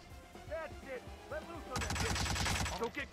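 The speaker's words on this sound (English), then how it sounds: "Not only was I completely unprepared for that gunfight" Gunfire in a Hitman video game gunfight: a quick rattling burst of rapid shots at close range, with a voice talking over the scene before and after.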